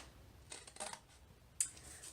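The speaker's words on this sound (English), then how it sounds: "I just take my scissors and I cut that shape out" Scissors cutting burlap fabric to shape for a banner, a few quiet crisp snips and rustles, close and alone in a hushed room.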